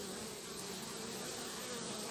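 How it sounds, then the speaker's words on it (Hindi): A dense, steady buzz of many honeybees crowded at a hive entrance, continuous and close, with no pauses or other sounds over it. "ये जो आप मधुमक्खियाँ देख रहे हैं"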